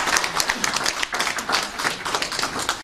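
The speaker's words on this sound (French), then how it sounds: "s'il vous plaît, nous pouvons applaudir pour le représentant de Eden Diaspora" Audience applause for a community movement's representative at a gathering in France, dense and steady clapping from a crowd, moderately loud and sustained for the whole stretch without speech over it.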